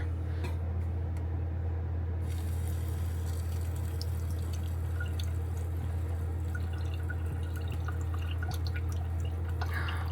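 Water running from a tap inside a Coleman 13B camper, a steady close hiss and trickle with faint drips over a constant low hum, no talking.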